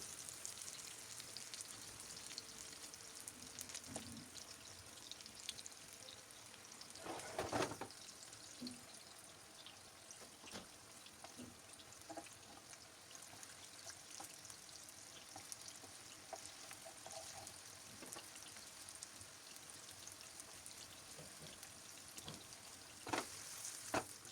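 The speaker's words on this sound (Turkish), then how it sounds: "Köftelerimizi böyle arkalı önlü pişirelim. Kızartalım yani." Steady crackling sizzle of Izmir köfte meatballs frying in a pan, continuous and close, with occasional louder pops and spatters.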